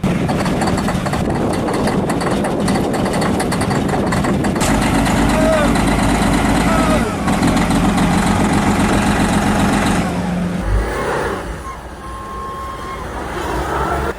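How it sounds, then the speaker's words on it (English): The diesel engine of a 1994 Kenworth truck rumbles steadily at idle after a cold start in sub-zero winter, loud and close, with a deep low throb that eases off toward the end. "Decent cold start for a 94 Kenworth."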